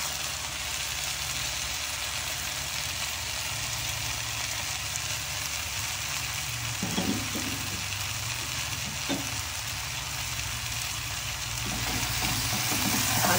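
Curry masala for watermelon rind curry sizzles steadily in a pan throughout, a constant low frying hiss with faint stirring scrapes and no voices.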